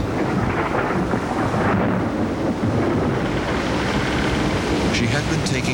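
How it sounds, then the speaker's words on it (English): A thunderstorm with gale-force winds on Lake Superior, heard as a loud, continuous roar of wind and rain with rumbling thunder throughout, within dramatic narrated documentary audio. "25-foot seas and gale-force winds hammered at the Edmund Fitzgerald as she plunged"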